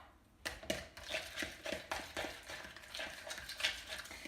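Fork mashing ripe banana in a bowl for whole wheat banana pancakes, steady close scraping and squishing strokes with light clicks of metal on the dish.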